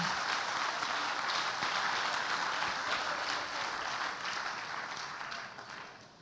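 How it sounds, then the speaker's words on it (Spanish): A congregation at a religious talk on gender ideology applauds in a broad, continuous roar of clapping that gradually tapers off toward the end. "Un aplauso."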